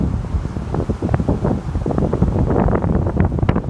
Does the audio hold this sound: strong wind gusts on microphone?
yes